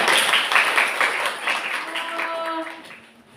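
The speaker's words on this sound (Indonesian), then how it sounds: "Tepuk tangan." A classroom of students claps for a group presentation, a dense burst of applause that thins out and fades over a few seconds, with a brief spoken voice near the end.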